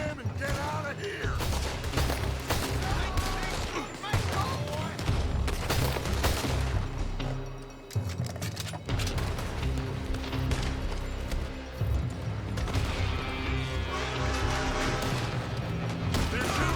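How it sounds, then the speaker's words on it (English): A shootout in the Western video game Red Dead Redemption 2 erupts in dense, rapid gunfire, with shots cracking over one another almost without pause alongside booms and mechanical clatter, and voices mixed in at times. "They're shooting from that building!"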